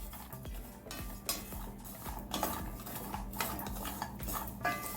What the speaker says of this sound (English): So this is walnut. I'm just gonna chop it fine.